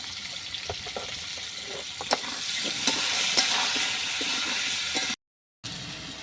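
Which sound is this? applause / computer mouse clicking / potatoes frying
potatoes frying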